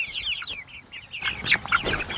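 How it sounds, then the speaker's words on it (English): Big Red Broiler chickens from McMurray Hatchery cluck and chirp nearby in a series of short, high, repeated calls, with some louder squawks toward the end over light outdoor background. "these guys are Murray's Big Red Broilers from McMurray Hatchery"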